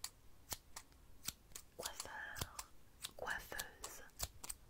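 Scissors snipping in sharp, evenly spaced clicks close to the microphone, while a soft whispering voice talks over them in the middle.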